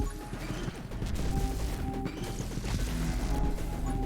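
Weapon fire in the survival shooter 20 Minutes Till Dawn, a dense, steady clatter of rapid shots and impacts layered over game music, continuous and fairly loud throughout.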